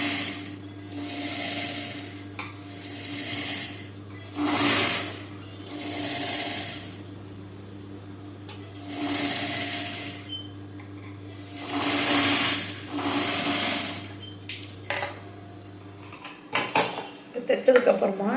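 A sewing machine stitches the boat neck edge of a scallop blouse at a half-inch seam, its whirring coming in several short bursts with pauses between, while a voice talks alongside.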